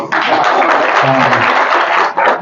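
Applause from an audience at a political gathering in Bodhegaon, broadband clapping filling the stretch with speech-like murmur mixed in.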